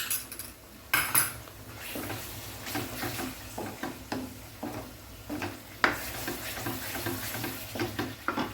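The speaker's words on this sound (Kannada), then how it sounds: "ಈ ಟೊಮೆಟೊದೆಲ್ಲ ಹಸಿ ವಾಸನೆ ಹೋಗಿ ಸೈಡಲ್ಲಿ ಆಯಿಲ್ ಬಿಡುವವರೆಗೆ ನಾವು ಇದನ್ನು ಫ್ರೈ ಮಾಡಬೇಕು" Tomato puree fries in oil in a pan on a high gas flame for a Punjabi chicken gravy, a soft sizzle running under repeated scrapes and knocks of a spoon stirring against the pan, close and fairly quiet.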